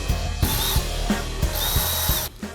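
Three 12 mm thermostat housing bolts being removed from a 2000 Toyota 4Runner with a power tool, giving repeated short whirring bursts and ratchet clicks close by, with no talking.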